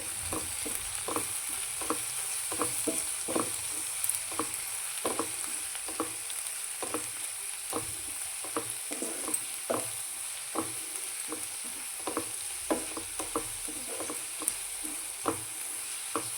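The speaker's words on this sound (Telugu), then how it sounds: "అలాగే పసుపు వేసుకొని బాగా కలుపుకోవాలి." Turmeric is stirred into a broad bean and tomato curry frying in a pan, with a steady sizzle and repeated rhythmic scrapes of the spoon, close and unaccompanied by talk.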